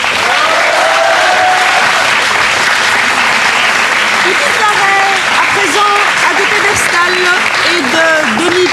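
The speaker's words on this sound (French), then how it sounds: "on peut applaudir cette équipe d'Ixelles" A studio audience at a Belgian quiz show applauds a school team from Ixelles, loud, dense clapping that holds steady for nearly nine seconds, with voices talking over it.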